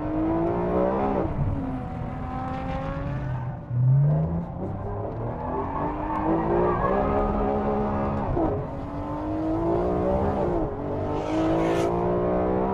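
A Ferrari 599 GTO V12 driven hard on track with oversteer, its engine revving and surging loudly and up close, with rising and falling pitch through gear changes and no talk.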